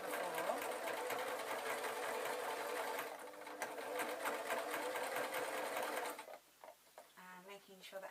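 A sewing machine stitches a bunny puppet in a continuous loud, rapid whir for about six seconds, pausing briefly midway, before stopping as someone talks.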